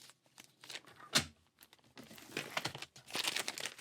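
Clear plastic packaging is cut and handled up close during card-making, giving quiet, irregular crinkles and crisp crackling bursts separated by short pauses.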